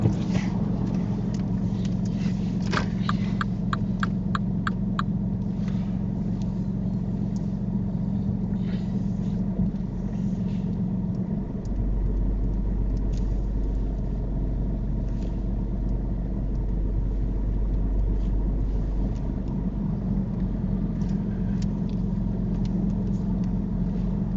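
A car being driven during a driving test hums through a steady low interior engine drone. The engine tone shifts partway through as it backs up, and faint clicks and ticks sound near the start.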